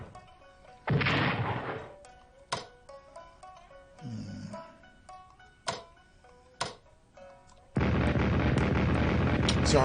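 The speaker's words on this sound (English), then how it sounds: "It's artillery, that's why." Artillery fire in the strategy war game Strategic Command, a series of separate booming blasts and sharp impacts spread through the stretch, with a dense roaring burst near the start and a sustained rumbling barrage at the end, under quiet talk.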